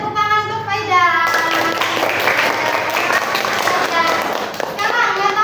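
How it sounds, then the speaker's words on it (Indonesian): Children in an Indonesian classroom clap for a classmate who answered correctly, a dense burst of many small hands that follows a teacher's voice and continues steadily under chatter and talk. "Beri tepuk tangan untuk Faidan."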